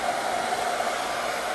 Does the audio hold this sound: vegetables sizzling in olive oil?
no